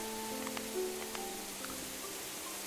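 Steady rain hiss in the video game Rise to Ruins, an even wash of patter with faint game tones and soft clicks on top.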